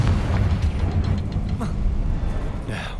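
A Confringo blasting curse explodes in the video game Hogwarts Legacy. It is a loud, deep, rumbling blast over a steady low roar, with a sharper burst near the end.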